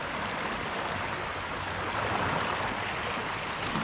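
Floodwater rushes beneath a washed-out bridge after heavy rain, eroding its foundations: a steady, loud broadband roar of torrential flow with no pauses and no talk.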